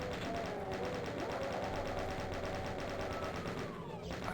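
A plasma rifle fires in Doom II in a rapid, steady stream of evenly spaced energy shots, continuous and dense under game sound effects, with a brief break near the end.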